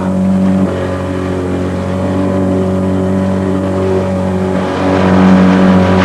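A car engine roars steadily under open throttle, a loud sustained drone with slight rises in pitch as it builds speed, running alone without voices.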